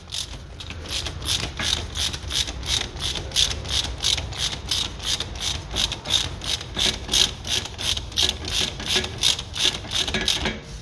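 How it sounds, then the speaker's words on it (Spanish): A hand ratchet tool turns screws on a vehicle, giving a steady run of close, rhythmic clicking strokes at about three per second, continuing evenly throughout. "le damos un par de vueltas a los tornillos para que vayan cogiendo"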